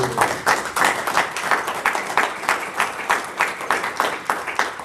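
A small group at an executive board meeting claps in a loose, pulsing rhythm, a modest round of applause from a handful of people in a meeting room, close and moderately loud.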